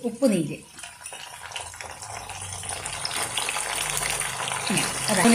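Salt water poured into hot oil where banana chips are frying, a loud splutter and bubbling crackle that settles into a continuous rushing sizzle, with a voice talking over it.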